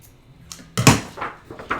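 A few quick scissor snips through string on a handmade sketchbook binding, close and fairly crisp, one sharper cut followed by several lighter ones in a short sequence.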